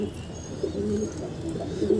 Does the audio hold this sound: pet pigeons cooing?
yes